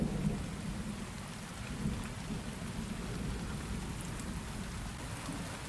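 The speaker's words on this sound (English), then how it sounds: "the rain continues to pour down" Heavy rain pours down steadily and close by, a dense wash of drops with a deep low rumble beneath it that may be distant thunder, continuing unbroken throughout.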